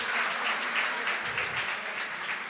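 A church congregation claps together during a family worship service, giving a dense, steady burst of applause that fills the room without letting up.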